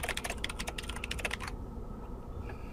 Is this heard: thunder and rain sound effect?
no